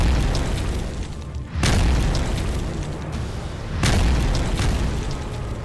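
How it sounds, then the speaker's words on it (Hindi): A K9 Vajra self-propelled howitzer fires twice, a few seconds apart, each shot a deep heavy boom that rolls and rumbles on. Loud and outdoors, with no talking over it. "K9 वज्र अपने प्रहार से 1 किलोमीटर दूर मौजूद दुश्मन को टारगेट कर सकता है"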